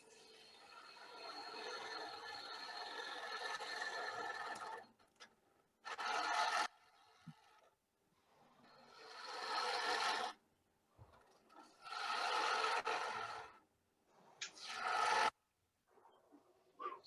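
Gouge cutting a spinning maple blank on a wood lathe, a raspy scraping rasp in four or five bursts of several seconds each, separated by short quiet pauses, close and fairly loud with no talk.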